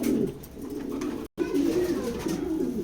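Pigeons in a loft give soft, throaty repeated coos close by, broken by a brief gap, with no talking.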